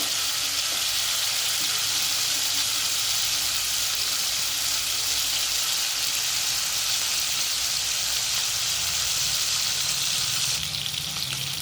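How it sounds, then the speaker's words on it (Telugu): Chicken pieces for chilli chicken frying in a pan, a loud, dense, continuous sizzle heard up close, steady throughout with a faint shift near the end and no talking. "ఇలా చికెన్ ముక్కలు వేయించుకున్న తర్వాత కొద్దిసేపు కదపకుండా అలాగే ఉంచాలి"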